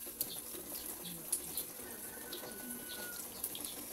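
Seafood being washed under a running kitchen tap, a quiet steady splash of water with faint handling clatters, close by.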